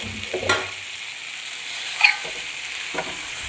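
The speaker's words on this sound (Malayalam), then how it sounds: "പരിപ്പ് വേവിച്ചത് ഇതിലേക്ക് ഇട്ട് നന്നായി ഒന്ന് ഇളക്കി യോജിപ്പിക്കണം." Cooked dal is stirred into a fried mixture of onion, ginger, garlic, green chilli and curry leaves, with a few distinct spatula strokes over a faint, steady sizzle.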